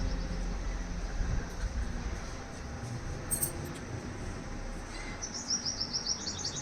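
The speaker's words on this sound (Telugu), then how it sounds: "ధాన్యం ధాన్యం తినడానికి పిట్టలు వస్తున్నాయి" Small birds arriving at a home garden to eat grain chirp and tweet, with brief high calls partway through and then a quick series of chirps near the end, over a steady outdoor background.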